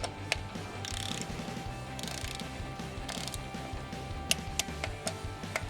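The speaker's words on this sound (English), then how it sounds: "our 3 bolts from the backing plate to the throttle body, I'm gonna torque those to 60 inch-pounds" A torque wrench ratchets on the air cleaner backing plate bolts of a Harley touring throttle body, rapid close clicking bursts separated by short pauses, with a few sharp ticks, quiet and without talk.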